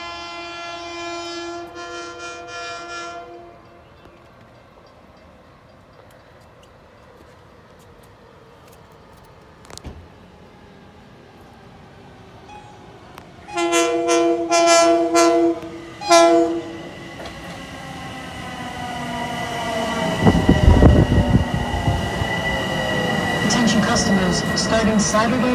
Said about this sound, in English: Now arriving on track one, platform A is the 4:38 p.m. train to Penn Station.